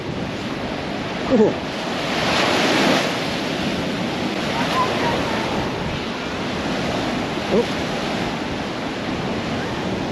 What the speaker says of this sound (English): when you get a big wave that comes up